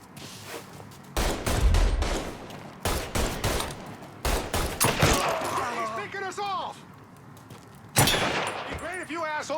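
Gunfire in the Mafia 3 video game, loud bursts of automatic shots in several volleys separated by brief pauses, with shouting voices in between the bursts.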